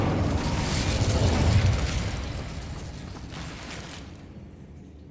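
The Incendio fire spell cast in Hogwarts Legacy on PS5 gives a loud whooshing burst with crackling, mechanical rumble that swells early, then slowly fades away.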